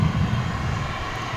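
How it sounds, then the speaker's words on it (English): An American Eagle regional jet arrives at DFW airport, its engines giving a steady, loud roar that holds throughout the short stretch, with no one speaking. "You're about to see the arrival of another American Eagle flight"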